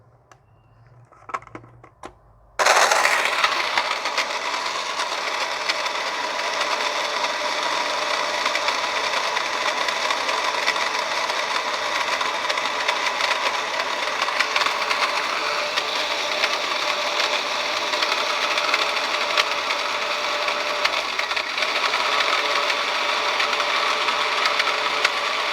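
A household electric grinder grinding galangal (hulanja) starts abruptly after a few soft clinks and then runs with a loud, steady high-pitched whir that holds unchanged for over twenty seconds.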